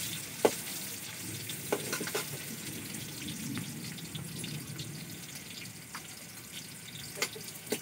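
Onions crackle and hiss in hot oil in a pan for mutton biryani made with varagu rice. The frying is steady and close, broken by a few sharp clicks and utensil taps.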